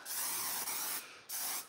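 Hairspray hisses from an aerosol can onto a burlap ghost in two bursts, a loud close spray, a short pause, then another burst.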